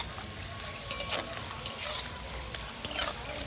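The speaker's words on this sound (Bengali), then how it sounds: "3 থেকে 4 পিস নিয়ে নেব আর গরম তেলের মধ্যে দিয়ে দেব।" Papad frying in hot oil, a faint bubbling sizzle with a few short crackling spurts and light liquid stirring, heard close without talk.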